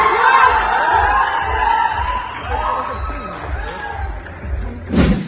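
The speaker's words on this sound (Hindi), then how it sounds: "बन गया माहौल, लोग लगे चिल्लाने।" A crowd at a Bhojpuri stage event with Pawan Singh and Khesari Lal Yadav shouts and cheers in a continuous loud roar, with a rhythmic low thumping underneath and a sharp bang at the end.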